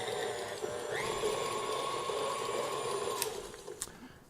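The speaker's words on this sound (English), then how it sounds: "we'll just give it another minute after we've scraped it, just to make sure we got it well blended" Electric mixer blending peanut chocolate chip cookie dough, a steady whirring motor hum with tonal whine that shifts pitch near the start and cuts off near the end, close and continuous.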